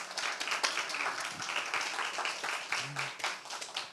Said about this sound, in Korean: 박수 한번 했으면 좋겠습니다.